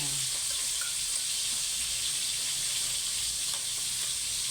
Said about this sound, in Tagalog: Ito, nagpiprito tayo ng ating tanghalian for today.